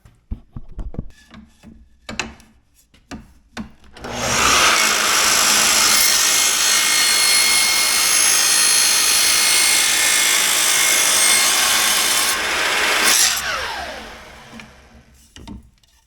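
A power saw cuts a piece off a length of wood, loud and close, running steadily for about nine seconds after some brief handling knocks, then winding down.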